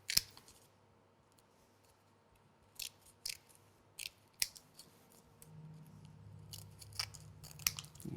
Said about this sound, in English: we'll go back in with our scissors and just trim away the extra bit